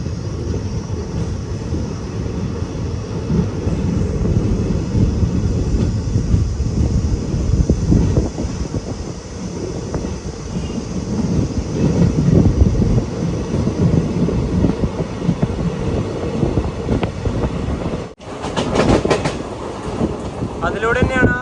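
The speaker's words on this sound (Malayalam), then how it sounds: "തേനി റെയിൽവേ സ്റ്റേഷൻ ഇതാ നമ്മുടെ ട്രെയിൻ എടുത്തിരിക്കുകയാണ്" A train pulls out of Theni railway station on the Madurai to Bodinayakkanur line, a steady rumble and rattle of wheels running for a long stretch with wind buffeting the microphone, broken by a brief sharp cut near the end.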